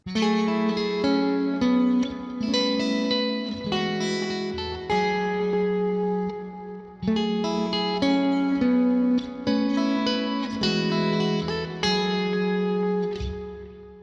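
A clean electric guitar runs through the compressor block of a Fractal AX8 modeler, set for an even, synth-like tone. Bright, sustained picked notes and chords ring out in steady phrases, close and evenly leveled, with no talking.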